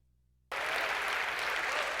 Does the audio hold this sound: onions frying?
no